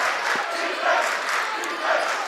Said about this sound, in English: The student section electric with a cheer.